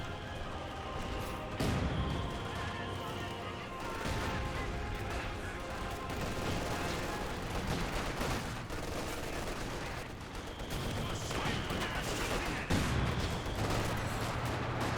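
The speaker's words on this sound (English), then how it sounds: "Quad half track firing away" A quad half-track in a Company of Heroes 2 battle fires continuously: dense, loud rattling bursts of automatic gunfire layered with explosions and battlefield clutter, with a voice talking faintly at times.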